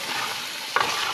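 Masala sizzles in oil in a pot for biryani, with a steady close hiss and one brief scrape of stirring near the end.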